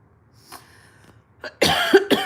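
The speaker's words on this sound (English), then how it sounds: "Stupid cough. So annoying." A person coughs several times in quick succession near the microphone, a short harsh burst after a faint quiet stretch, with a throaty tail.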